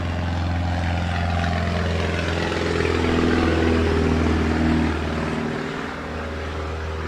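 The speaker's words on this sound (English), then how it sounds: "Pause for the airplane." A propeller airplane drones loudly overhead in a steady, continuous roar that swells slightly and then eases off as it passes.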